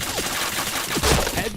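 Rapid gunfire from a video game shooter crackles through a short burst, with a louder volley near the end and a voice faintly underneath.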